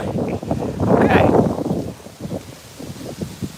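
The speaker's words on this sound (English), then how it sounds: "You can probably hear that wind, feel that wind." Gusty outdoor wind during an afternoon walk, buffeting the microphone in a broad rushing swell that peaks early and then settles into softer, uneven puffs.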